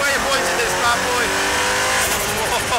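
A Nissan R90CK Le Mans race car with a twin-turbo 3.5 litre engine drives hard, its loud engine roaring steadily from inside the cockpit while a driver talks over it.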